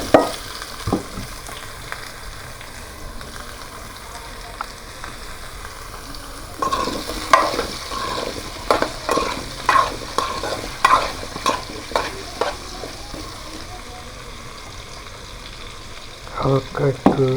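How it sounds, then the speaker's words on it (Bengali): Dried fish curry ingredients frying in a pan while being stirred, a soft continuous sizzle with a run of sharp scraping stirs in the middle and again near the end, close and alone without speech. "হালকা একটু ভেজে নেব।"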